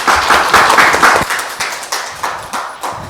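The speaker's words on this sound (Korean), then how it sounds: "그럼 다들 큰 박수로 맞이해 주시기 바랍니다." Audience applause welcoming a speaker at a bioscience study session, a burst of claps that swells briefly and then thins into a few scattered, fading claps.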